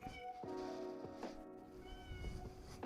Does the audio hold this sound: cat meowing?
yes